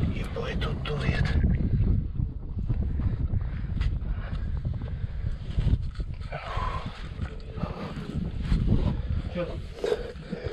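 Wind gusts and rumbles at a cave tunnel entrance in Khakassia, a continuous low buffeting roar across the whole stretch, with people talking over it.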